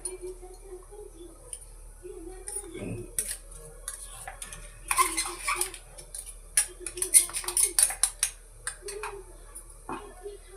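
Ground sugar is mixed into beaten eggs in a bowl for a mawa cake, with irregular clinks and scrapes of the whisk against the bowl growing busier midway, and faint talk in the background.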